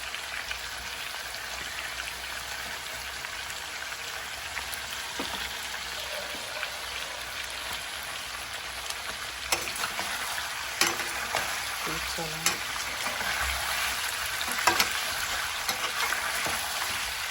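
Chicken sizzles steadily in hot oil as onion and green chili go into the pan, a constant bright frying hiss with scattered pops and a few stirring scrapes, close and without talk.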